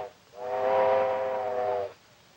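A single steady train whistle blows for about a second and a half, clear and moderately distant, then cuts off.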